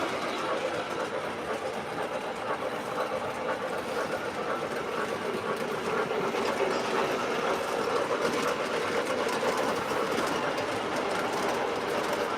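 O scale model trains run on their track, making a continuous rolling rumble with faint clickety-clack at moderate level through the whole stretch.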